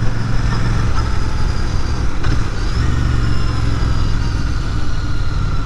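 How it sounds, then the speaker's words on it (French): Royal Enfield Bear 650 twin-cylinder motorcycle engine running steadily and smoothly at close range, a continuous low rumble with no talking. "Alors le bicylindre est très très souple."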